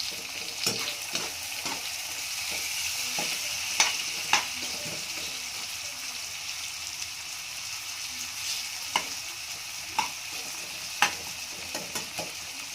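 Peas sizzle softly in a frying pan while a spoon stirs them with occasional sharp scrapes and taps against the metal, close and fairly quiet, with no voices.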